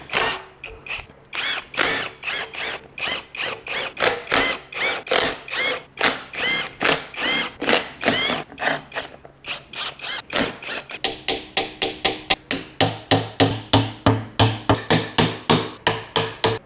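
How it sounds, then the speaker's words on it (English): Rapid, rhythmic power-tool hammering and ratcheting sound close by while the intake manifold comes off a Ford 302 V8 in a 1964.5 Mustang. The bursts run steady and loud, and they quicken into tight repeated pulses toward the end. "I gotta take this intake manifold off before I do anything else"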